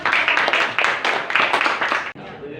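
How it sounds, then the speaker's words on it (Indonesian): Classroom applause for students who built a molecular model from ping pong balls and sticks: a short burst of rhythmic group clapping that stops abruptly near the end, with voices mixed in. "kasih dulu tepuk tangan"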